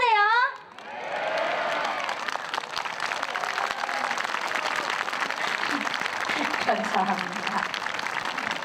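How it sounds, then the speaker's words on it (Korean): Sustained audience applause at a Korean outdoor performance show, dense steady clapping with some crowd noise, following a brief spoken thank-you at the start; a voice is faintly audible in the crowd. "알아서 박수를 쳐주셔야지."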